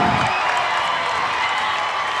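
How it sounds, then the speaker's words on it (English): A home crowd at a varsity boys basketball game roars in a loud, sustained wall of cheering right after a player's driving score, with the noise holding steady throughout. "This crowd explodes"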